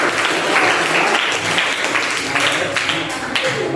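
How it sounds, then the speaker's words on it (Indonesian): Classroom applause from a group of students, steady broadband clapping sustained for a few seconds with some voices mixed in. "Tepuk tangan untuk kita semua."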